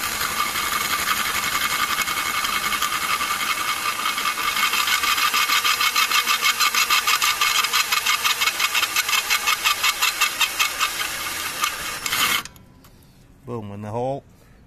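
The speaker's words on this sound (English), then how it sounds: "now I'm going to slowly drill this out" A power drill slowly bores out a rivet under heavy pressure inside a Ford Ranger interior, a loud sustained whine with rapid rhythmic chatter that stops abruptly near the end, followed by a brief voice.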